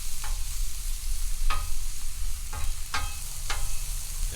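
Food sizzles steadily on a Blackstone griddle while a spatula stirs it, with several sharp scraping strokes cutting through the constant loud frying hiss.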